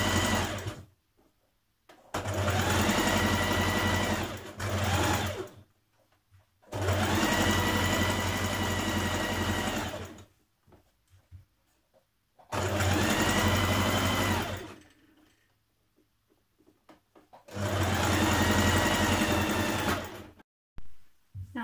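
A sewing machine stitches the front piece of a knit cardigan to a raglan seam in four loud, sustained bursts of rapid mechanical whirring. Short quiet pauses fall between the runs.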